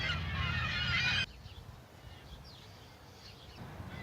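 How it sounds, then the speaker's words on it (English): Seagulls call loudly on a spring day, a dense noisy squawking that cuts off sharply after about a second, leaving fainter distant bird cries and ambient noise. "The seagulls are mating all around me."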